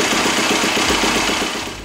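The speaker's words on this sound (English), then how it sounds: "Next step is to go ahead and heat the bike up for several minutes." A Yamaha YZ450F dirt bike engine, a 2018-or-later model, warms up at a steady idle, giving off a loud, close, rapid pulsing thump that holds throughout and eases slightly at the end.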